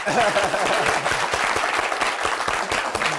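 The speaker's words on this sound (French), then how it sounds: "Applaudissez pour elle." An audience at a French-language talk show bursts into applause for a guest, a busy wash of clapping with a voice talking over it.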